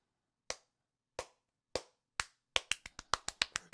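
Slow clap: four widely spaced single claps at first, then faster claps in a quicker, uneven burst, crisp and close with no talk.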